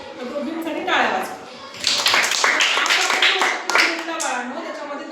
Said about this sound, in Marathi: तर दोघींसाठी टाळ्या वाजवा